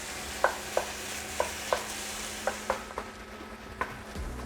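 Ground beef browning in a single pan for a taco mac and cheese casserole, a steady soft sizzle broken by about ten sharp scrape-and-clack strokes of a utensil stirring the meat, heard up close with no voices.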